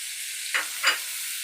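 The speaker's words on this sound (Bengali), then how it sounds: "এবার দিয়ে দিচ্ছি টমেটো কুচি" Chopped tomato is added to a hot pan for a Bengali rohu fish curry with ridge gourd, giving a steady sizzle broken by two short bursts of louder hissing and stirring up close, with no talk.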